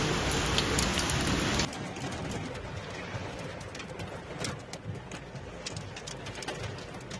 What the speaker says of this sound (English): ground struggled to cope with heavy rainfall following a long drought